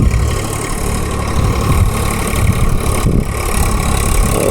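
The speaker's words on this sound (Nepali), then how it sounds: "म चाहिँ ट्र्याक्टर चलाउनु जानु पऱ्यो।" A tractor engine runs steadily close by with a low, continuous idling drone and a faint uneven chug. Nothing else is heard over it.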